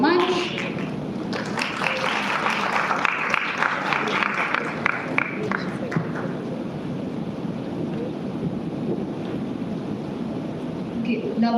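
An audience applauds after a presentation at a live event, a burst of clapping over the first few seconds that fades into murmuring room noise and talk.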